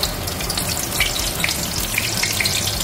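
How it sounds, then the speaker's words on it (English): Hot oil crackles and sizzles continuously as shrimp deep-fry, a dense, bubbling hiss with scattered pops, close and fairly loud. "We're ready to go and start frying up some of these shrimp."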